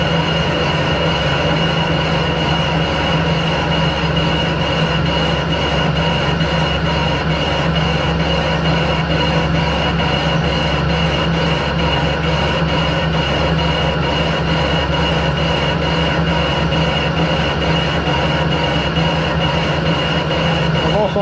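A machine bores the cylinder for a 7.25-inch gauge steam locomotive, giving a steady, dense mechanical hum and cutting drone that continues unchanged and loud throughout.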